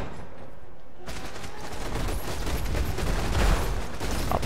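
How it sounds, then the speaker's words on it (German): Fireball explosions in Path of Exile burst in rapid succession, a dense crackling barrage of blasts that starts abruptly and swells louder toward the end. "Das waren mehr Explosionen pro Feuerball."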